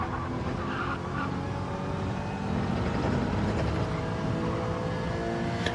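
A GT race car in a sim racing video game roars at full throttle through corners, a loud continuous engine drone with shifting pitch and hints of tire squeal, without any voices.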